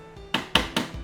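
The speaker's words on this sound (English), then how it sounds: "The auctioneer's hammer." An auctioneer's hammer from the game Ace Attorney Investigations bangs three times in quick succession. The knocks are sharp and even, evenly spaced, fairly quiet, and heard alone with no talk.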